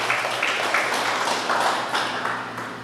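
A church congregation applauds during a sermon, a steady wash of many hands clapping that fills the space evenly and tapers slightly toward the end.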